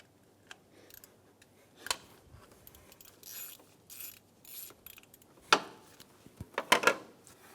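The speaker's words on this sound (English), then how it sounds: "Remove the 10mm bolts for the tensioner cover." A ratchet backing out 10mm bolts from the timing tensioner cover of a 2003-2007 Infiniti G35 during a water pump job, with quiet intermittent clicking bursts and brief taps, close by, with no speech.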